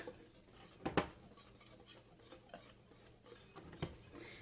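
Flour being whisked with salt, baking soda and cinnamon in a bowl for a scratch apple cake: soft scraping strokes with a couple of sharper clinks of the whisk against the bowl, close and fairly quiet.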